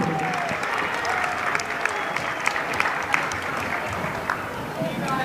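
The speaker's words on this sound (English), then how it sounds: "let's have a big round of applause for the FCAC officials, Willie Vasquez and Nancy Vieiro." Crowd at a middle school basketball game claps loudly and steadily for several seconds, a dense wash of applause with scattered sharper claps and some cheering.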